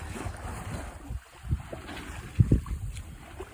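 Islander 36 sailboat underway on the open Pacific between Hawaii and California, wind rushing over the microphone with low wash of waves against the hull, a couple of louder splashes near the end, no talk.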